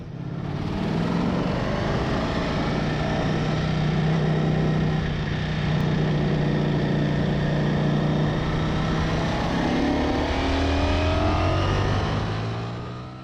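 A Ducati Streetfighter V4S V4 motorcycle accelerating hard on a fast UK road, its loud engine note climbing through the revs in one sustained surge, dipping briefly at a gear change before rising again.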